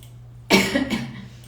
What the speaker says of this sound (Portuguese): eu tô com essa tosse de cachorro